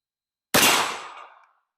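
A single sharp gunshot from a Ruger LC Carbine in 10mm fired with handloads, loud and close, with its echo fading over about a second.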